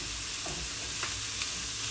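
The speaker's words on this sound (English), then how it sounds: "I gotta keep stir frying it." Sausages stir fried in a very hot pan give a constant loud sizzle with a few quick scraping stirs, no voices.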